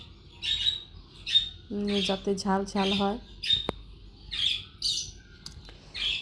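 Birds on a home balcony chirp and squawk in short bursts near and far, one harsh rattling call in the middle, while someone talks over them during cooking.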